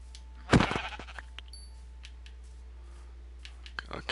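A sheep gives one loud, close bleat near the start, followed by soft clicking and faint movement, with another short bleat at the end.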